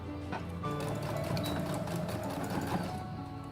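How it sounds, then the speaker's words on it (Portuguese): A sewing machine runs steadily, stitching a straight seam along a corner of fabric for a multipurpose toiletry bag, its close, continuous whirring mechanism filling the whole span without talk. "Eu posiciono aqui o cantinho da minha costura no 3, certo? E passo a costura reta."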